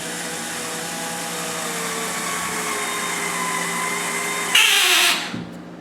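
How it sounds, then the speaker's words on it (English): A power drill drives a countersunk screw into a drywall hole patch, a steady whirring motor hum that rises into a brief louder burst near the end before winding down and stopping. "I'll just screw it in just a little bit more"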